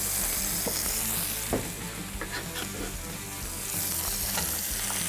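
Butter and thinly sliced shallot sizzle steadily in a hot pan, a dense continuous frying hiss with a few brief louder crackles, close and constant throughout with no talking.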